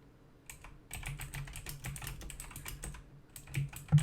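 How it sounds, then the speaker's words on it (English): A very loud computer keyboard clatters under rapid, continuous typing at close range, keys striking in quick uneven bursts with no voices. "I have the world's loudest keyboard."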